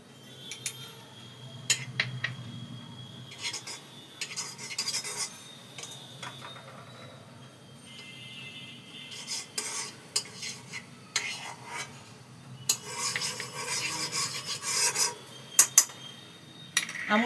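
Amul butter stirred in a pan over a gas flame, with a metal utensil scraping and clinking against the pan in irregular bursts that grow busier toward the end; close and moderately quiet, with no talk.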